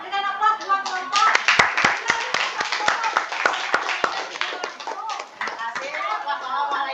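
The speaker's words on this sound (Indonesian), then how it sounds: "Berikan aplaus buat kelompok." A school class gives a group a round of applause in a classroom: a burst of sharp, uneven hand claps that thins out, with children talking over it.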